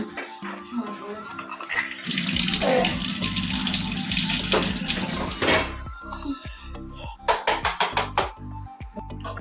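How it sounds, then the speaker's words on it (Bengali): Water from a motor-pumped tap in a home kitchen gushes steadily for several seconds, then gives way to knocks and splashes, with a voice talking briefly over it. "কলে মোটরে করে জল পড়ছে"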